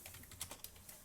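Typing on a computer keyboard during a Java programming lab, a short run of faint, quick key taps at an uneven rhythm.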